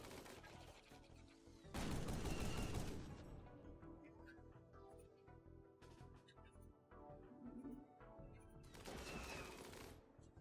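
In the RimWorld video game, a robot fires its blaster and light machine gun in bursts of rapid synthetic shots, with two louder barrages among quieter popping fire, all at moderate distance.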